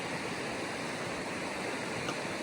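The Rio Chama in New Mexico flows past as a steady, broadband rush of water, even and continuous, with no voices.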